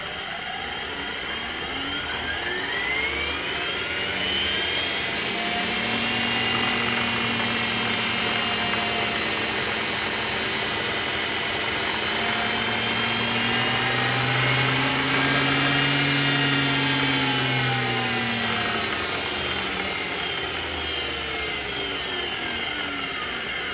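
Tesla Model S high efficiency drive unit motor running on 60 volts spins up toward almost 10,000 RPM, a loud sustained whine with rising and falling tones like a turbine, steady throughout.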